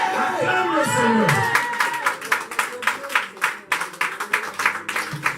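A church congregation cheers and claps in praise during a Sunday service, with voices rising at first, then settling into steady rhythmic hand clapping that continues.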